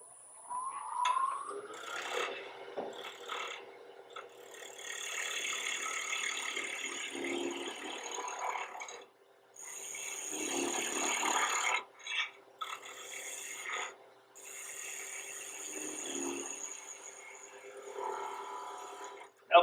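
A skew chisel cutting wood on a lathe, a steady scraping, rasping hiss that runs almost continuously with a few short breaks, fairly close and alone.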